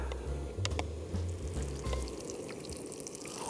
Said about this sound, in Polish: Smażymy z obu stron, aż